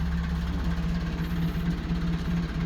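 Car engine running after a jump start from a welding machine, a steady low idle with a continuous rumbling hum and slight rhythmic pulsing, loud and close with no voices.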